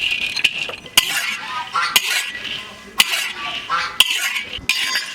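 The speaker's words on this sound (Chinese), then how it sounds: "把瓜子肉肉到锅里炒一下" Sunflower seed kernels stir-fried in a dry wok, with a metal spatula scraping and clinking against the pan in repeated sharp strokes roughly once a second over a soft rustle of tossed kernels.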